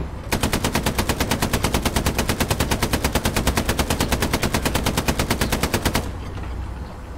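Sustained rapid-fire machine gun burst from tank combat in Hell Let Loose, an even stream of loud, closely spaced shots lasting about six seconds before cutting off abruptly, with no talking.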